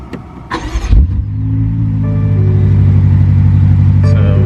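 A 2018 BMW X5 M engine turns over and catches, then settles into a steady, close idle hum after a short burst of starter noise.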